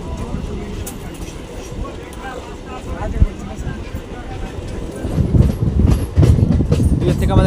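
A train on the Howrah to Masagram route rumbles along the rails with rhythmic clatter, growing louder toward the end, under faint background voices.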